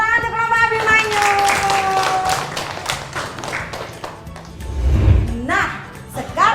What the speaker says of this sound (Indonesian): beri tepuk tangan untuk kelompok Abimanyu